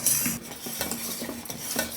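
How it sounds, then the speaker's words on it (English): Milk being stirred into condensed milk in a pan on medium flame makes continuous close scraping and swishing of a spoon against the metal, with a faint sizzle underneath and no voices. "Put it on medium flame after some time when you feel it is sticking to the sides. And then go on stirring."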